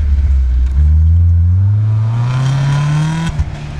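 A UAZ Hunter off-road car with coarse tires and a lifted body, and no locking differentials, revving at a steppe off-road competition: a close, loud engine note climbing steadily in pitch, then cutting off with a brief clatter.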